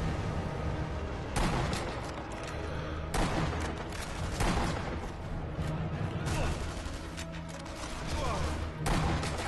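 Gunfire in the shooter Sniper Elite V2, with a series of sharp, loud shots and crashing impacts at irregular intervals over a busy battle backdrop, with someone occasionally speaking.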